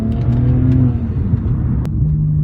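A 2007 BMW 335i revs and pulls hard in second gear with a steady rising drone, loud and close, with no voices.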